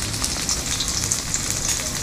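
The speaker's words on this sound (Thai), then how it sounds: "ไอ้ปลาแก้วทอดนะครับ ปลาแก้ว ใช่ปลาแก้วทอด" Small glass fish frying in hot oil, a steady close crackling sizzle with bright popping spatters throughout, with no voices.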